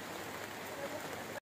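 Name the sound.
heavy rain falling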